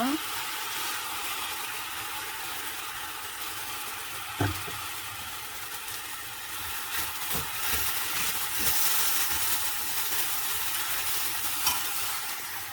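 Blanched fish cake stir-fries in a pan with cooking oil and soy sauce, sizzling steadily at moderate volume with a few scraping stirs and clinks throughout.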